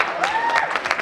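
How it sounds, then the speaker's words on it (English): A short burst of clapping from an audience at a corporate summit, with a thin whistle rising and falling above it. "Huge round of applause,"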